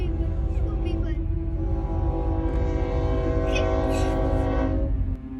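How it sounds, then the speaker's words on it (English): A train in the Netherlands plowing through a stalled bus, heard as a loud sustained horn blast over heavy rail rumble, with a sharper crunching burst near the end. "a train plows straight through a stalled bus"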